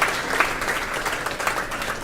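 An audience at a Friends of Figma design community event in Bangalore breaks into continuous, dense applause that stays fairly loud throughout.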